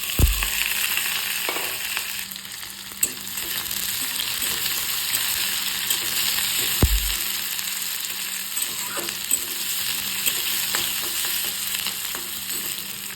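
Garlic, onion and green chili fry in oil in a pan with a steady, close sizzle, broken by a few sharp clatters of a utensil against the pan.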